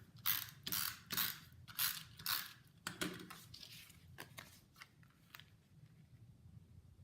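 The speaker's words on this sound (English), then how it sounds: "The first thing I'm going to do is adhere the embossed layer to my card front using some snail adhesive" Snail adhesive tape runner rolled across an embossed card-front layer, a series of close, rhythmic ratcheting clicks and whirs in several bursts, fading into a few lighter clicks.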